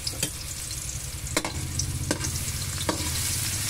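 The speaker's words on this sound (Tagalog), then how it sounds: "Inigisa na natin ang bawang." Garlic sautéing in a pan for pork kare-kare, a low sizzle that swells steadily, punctuated by several distinct spatula scrapes and taps against the pan.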